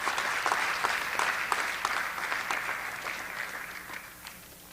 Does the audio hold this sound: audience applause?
yes